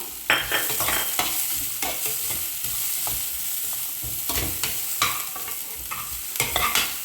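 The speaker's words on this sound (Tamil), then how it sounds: "அதையும் சேர்த்து நல்லா வதக்கிக்கலாம்" Onions sizzle steadily in a hot pan while a utensil stirs and scrapes at irregular moments, with no voices.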